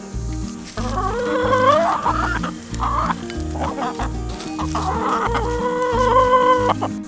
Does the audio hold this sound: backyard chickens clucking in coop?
yes